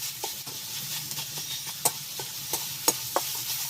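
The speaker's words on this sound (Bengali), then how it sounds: "খুব ভালো করে নেড়েচেড়ে গুড়টা কিন্তু এই পুরের সাথে মিশিয়ে নিতে হবে।" Coconut filling mixed with sugarcane jaggery is stirred in a pan, a soft scraping stir with a faint sizzle under it and several sharper clicks of the spoon against the pan.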